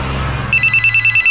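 A mobile phone ringtone sounds loud and close as a steady run of rapid, evenly pulsed electronic beeps, alone after a low droning tone fades out.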